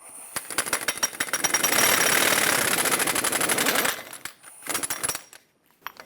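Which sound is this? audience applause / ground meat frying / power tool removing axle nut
power tool removing axle nut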